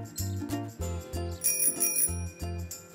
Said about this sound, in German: Jedes Fahrrad sollte so eine Klingel haben.